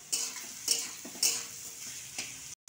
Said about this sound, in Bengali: এটা ঘি দিয়েছি, তেল দিয়েছি, সাদা তেল, দুটো মিক্সড করে একসঙ্গে ভেজে নিচ্ছি